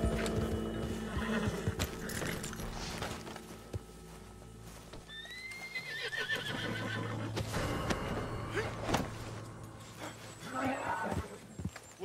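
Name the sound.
horse neighing and hooves, video game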